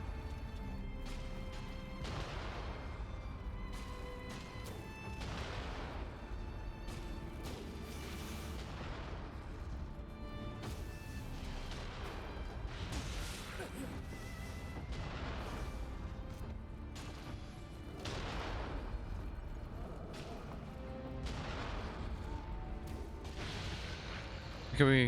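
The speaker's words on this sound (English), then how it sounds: "you have a two big ass dudes with a fucking cannons here" Heavy cannon fire from two large enemies in the video game Nioh 2, booming blasts and crashes repeating throughout amid dense game sound and music, with someone talking over it.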